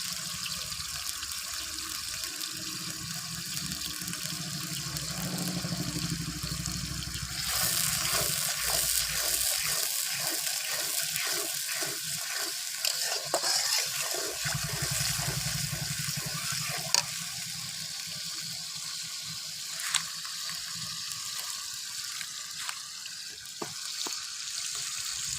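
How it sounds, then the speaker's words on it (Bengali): Egg korma cooking in a pan as a powdered milk mixture is stirred in, steady sizzling and bubbling with scraping stirring strokes throughout, fairly close and unbroken. "সুন্দর করে এটাকে মিক্স করে নিচ্ছি।"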